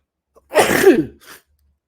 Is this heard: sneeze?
yes